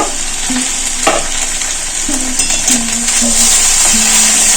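Drumstick (sajne data) and vegetables for a Bengali shukto being stirred in a pan, with a steady sizzle of frying under scraping and clinking of a spatula in a continuous, moderately loud run.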